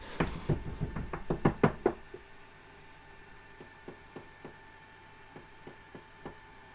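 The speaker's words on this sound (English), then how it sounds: "He was cut off by frantic knocking that trailed off to a polite tap, tap, tap." Knocking on a door, starting as a loud, rapid, frantic series of raps that breaks off into slower, lighter polite taps spaced apart, close-up against a faint steady hiss.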